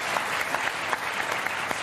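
Applause from a studio audience on a French evening talk show, a dense, steady clatter of many hands clapping close by with no voices on top.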